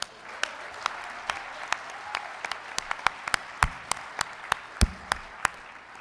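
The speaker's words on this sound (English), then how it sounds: "Let's give our sister a round of applause." A small group at an awards gala claps steadily, with crisp individual hand claps standing out over a soft background patter.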